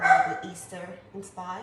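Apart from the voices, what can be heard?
dog barking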